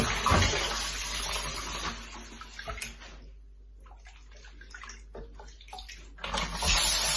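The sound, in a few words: washing soaked dried plums in water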